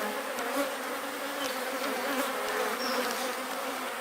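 A large hive of aggressive honey bees gives off a dense, steady swarm buzz that fills the clip, close and continuous with no talk over it.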